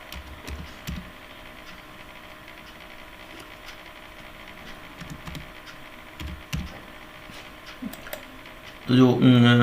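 Keys on a computer keyboard are tapped in short, irregular bursts while a child's 12-digit Aadhaar number is entered on the MP Shiksha portal, with faint room noise between presses and a louder clatter near the end.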